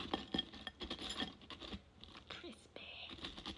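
Crunchy bites of fries dipped in tuna, a few sharp crackling crunches and chewing sounds heard up close, quiet, with a voice murmuring in between.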